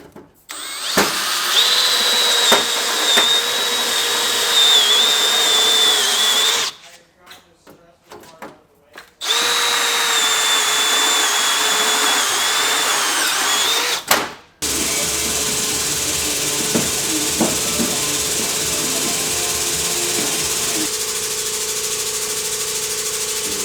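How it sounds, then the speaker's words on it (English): A power drill whines loudly in long bursts, pausing between holes while building a tubular truck bed for a VW Beetle, followed by a lower steady machine hum with faint clanks. "over here working on getting these holes drilled"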